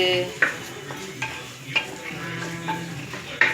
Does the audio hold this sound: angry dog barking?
no